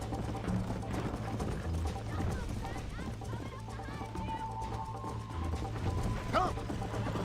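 Horse hooves clip-clopping at speed in Red Dead Redemption, a rapid steady rhythm under game music and talk throughout.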